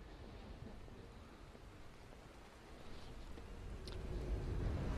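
Rain falls in the horror video game The Evil Within as a faint, steady hiss with a low rumble. It slowly builds louder toward the end, with no voices over it.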